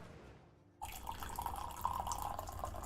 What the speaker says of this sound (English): just gonna pour this tea